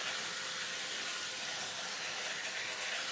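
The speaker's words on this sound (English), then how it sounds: "Love using this avocado oil cooking spray." A continuous, steady hiss of an avocado oil cooking spray being sprayed close by onto a muffin tin, lasting a few seconds without pause.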